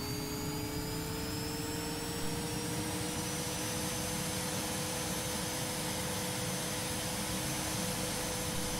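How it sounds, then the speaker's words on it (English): A BAE Hawk T1/A jet trainer engine in a flight simulator spools up for taxi, a loud steady turbine whine and roar with rising high tones that climbs gradually and continuously, alone with no voices. "We can now slowly increase RPM to start the aircraft rolling."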